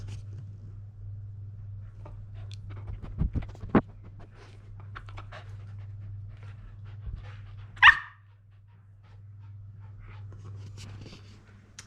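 A dog gives a few scattered barks over a constant low electrical hum in an indoor workshop, with one sharp, louder bark standing out near the end.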